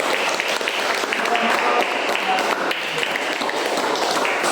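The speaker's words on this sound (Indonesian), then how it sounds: "Baik, tepuk tangan dulu untuk" Classroom applause for a student group after their presentation, a steady wash of many hands clapping at moderate loudness, continuing evenly throughout.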